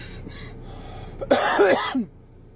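A single throaty cough or harsh throat clearing, loud and close, lasting under a second.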